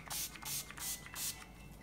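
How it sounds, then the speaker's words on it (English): Essence Keep It Perfect makeup fixing spray misted in four quick pumps, each a soft hissing burst, close and clear with short pauses between them. "Spray it. I like to spray it before I do my mascara."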